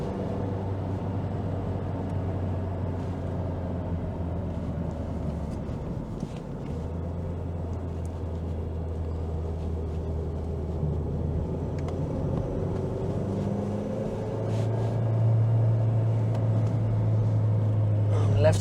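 Inside a Ford Mondeo MkIII 1.8 on a test drive, a low, steady engine hum dips and rises as gears are changed smoothly, while a voice talks over the cabin noise.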